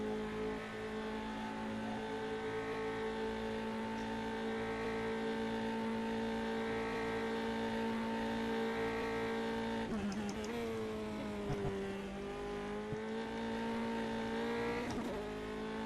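ASR Formula 3 race car in the video game rFactor 2, with a high steady engine whine held at sustained revs. Pitch dips and climbs again around gear changes and braking, loud and continuous throughout.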